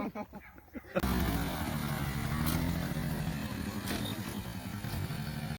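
A Baja Warrior 200 minibike with a sidecar roars at full throttle, its loud, rough engine drone holding steady for several seconds after an abrupt start, close to the listener.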